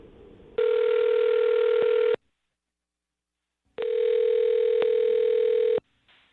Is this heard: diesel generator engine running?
no